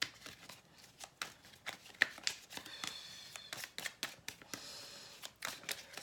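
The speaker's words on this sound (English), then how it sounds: "We're doing a little bit more shuffling on camera as usual." A tarot deck is shuffled close up in quick, crisp riffles and slaps of cards, coming in short irregular bursts with brief pauses between.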